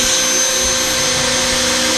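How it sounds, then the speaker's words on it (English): A Dremel rotary tool trims the mounting bolts of a replacement AC fan motor, making a loud, steady high-pitched whine with a continuous grinding hiss throughout. "we're going to go ahead and trim these off with our Dremel"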